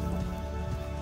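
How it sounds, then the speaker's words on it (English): Water is poured steadily for a puppy, a close, continuous splashing rush that runs unbroken for the whole second with no voices. "Right now let me just put the water for her."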